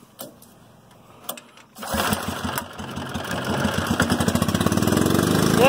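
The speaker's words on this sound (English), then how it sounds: "Yeah, it runs like a Briggs & Stratton." A small Briggs & Stratton engine powering a smoke machine starts after a few clicks and faint knocks, then runs at a loud, close, steady idle with a rapid, even chug that grows slightly louder.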